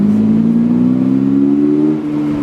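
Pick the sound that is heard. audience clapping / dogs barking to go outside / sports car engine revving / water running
sports car engine revving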